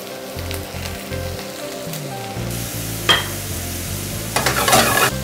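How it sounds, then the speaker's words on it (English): Zucchini and mushrooms sauté in a pan with a steady, close sizzle that swells in the second half, punctuated by a few sharp stirring scrapes and clinks. "So we're gonna season, saute until they're tender."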